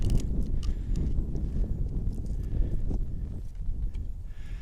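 Wind blowing across an outdoor survival-fire site in snowy conditions, a steady broadband rush with gusty buffeting on the microphone throughout, no speech.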